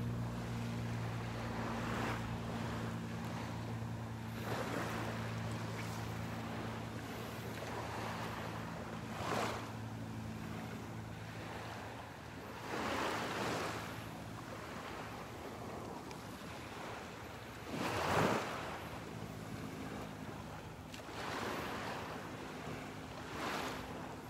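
Ocean waves wash onto the beach at Delnor-Wiggins Pass State Park in slow, broad surges every few seconds, over a steady low rumble of surf and light wind.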